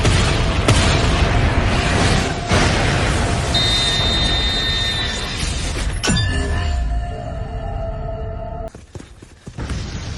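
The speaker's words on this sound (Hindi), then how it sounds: "वो क्या था? एक धमाका।" A sudden explosion bursts out during an anime football match, a sharp boom with a falling rumble that rings out over the busy music and effects of the scene.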